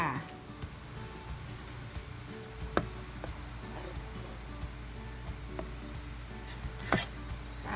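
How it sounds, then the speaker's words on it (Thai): Chili, shallot and garlic sizzle steadily in a hot pan, with occasional sharp clinks of a utensil against the pan. "หั่นพริกหอมแดงแล้วก็กระเทียม จากนั้นก็สิเอาไปขัวค่ะ"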